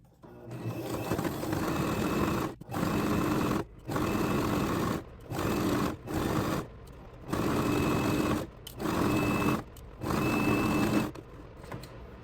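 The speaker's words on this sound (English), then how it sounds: "When I sew the strap, I like to turn the stitch gauge to 3 to make bigger stitches" A sewing machine running long stitches along a bag strap, working in repeated bursts of a second or two with brief pauses between them, close and steady with no talking.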